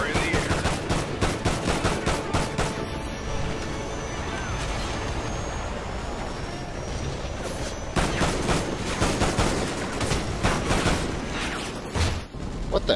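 Rapid gunfire rattles through a Call of Duty Ghosts campaign battle aboard a ship, with continuous automatic bursts over a rumbling background and a dense volley again near the end, loud and relentless.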